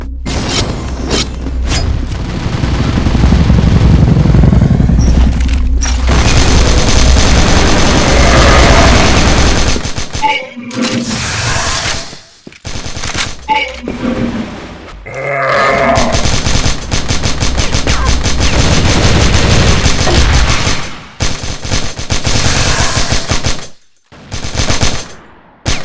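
Rapid KAC ChainSAW machine-gun fire in the shooter game Crossfire rattles loud and close in long sustained bursts, broken by brief silent pauses and booming impacts.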